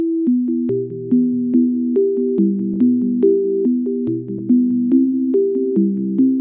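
Sign Solo synth preset from Arp Bank 02, slowed to half speed with the low end cut by EQ, plays a steady looping arpeggio of plucky, sustained tones, each note starting with a sharp attack, close and alone.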